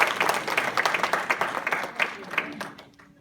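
A small audience at a Hindi comedy poetry show in Sacramento, California claps together for a few seconds, the applause fading out toward the end.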